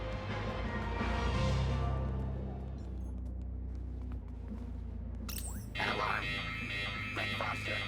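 Alarm in the video game Beyond a Steel Sky, a loud rumbling wail over a noisy crowd during alarm mode, with a harsh bright burst cutting in near the end.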